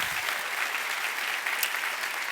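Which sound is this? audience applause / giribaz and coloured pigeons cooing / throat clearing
audience applause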